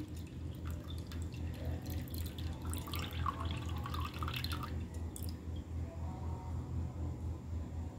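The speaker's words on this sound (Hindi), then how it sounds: "तो जितना पानी निकल पाएगा उतना हम निकाल ही देंगे इसका" Water being poured off settling homemade corn flour, a faint steady trickle with soft dripping, under a low continuous hum.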